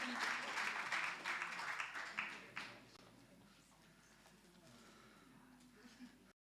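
Clapping from a gala dinner audience crowds the opening seconds, then thins into scattered claps and fades to a soft murmur of room noise before a quiet, distant voice at the end.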